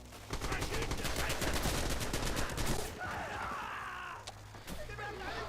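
Rapid bursts of machine gun fire in the video game Red Orchestra 2, a dense, loud rattle that stops partway, with a faint voice underneath.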